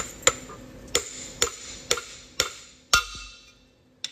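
A small custom driver tool tapping a valve seat into an SMX cylinder head: six sharp metallic taps at a steady rhythm about half a second apart, close and ringing, then a faint final tick.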